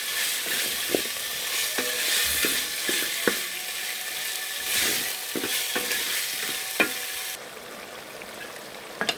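Spices sizzling in a pan with yogurt, ginger, garlic and ghee, a steady close frying hiss broken by sharp clicks and scrapes as a spoon stirs.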